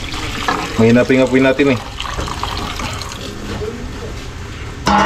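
Hot water poured into a pot of vegetables while cooking pansit, a steady loud splashing gush with a voice speaking over it.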